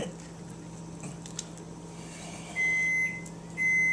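A kitchen oven beeps on reaching temperature, two loud sustained electronic tones about a second apart over quiet room noise and faint clatter.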